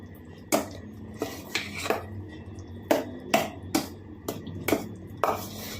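Metal spoon scraping and knocking against a pan while thick yam is folded into ground coconut paste for Kerala erissery, a series of sharp, evenly spaced clinks and scrapes close by, with no talking.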